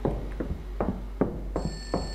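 A telephone rings in the staff room of an abandoned school in a horror video game, a bright repeated tone entering late over a run of rhythmic dull thumps, like footsteps.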